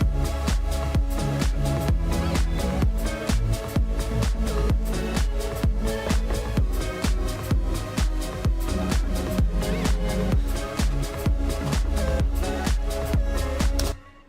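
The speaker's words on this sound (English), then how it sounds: "So it's kind of like this house techno thing that feels like it's moving forward" A house techno track produced in Ableton plays its chorus, a dense, driving mix with a steady pounding kick pulse and layered synths, loud and continuous until it cuts off at the end.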